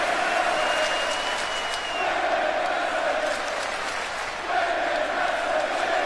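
Roaring arena crowd at a women's wrestling match in WWE 2K, a continuous wash of cheering and shouting with a few rising whoops, loud and sustained with slight dips.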